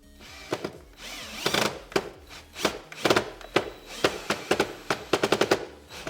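A power drill whirs while its bit repeatedly chatters and slips, producing sharp irregular rattling bursts that speed into a rapid clatter near the end.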